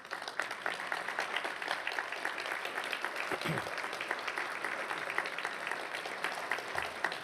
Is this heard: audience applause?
yes